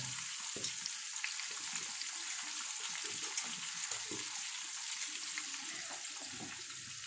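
Small sardines frying in oil in a pan, giving a steady, quiet sizzle with scattered pops and crackles throughout and no voices.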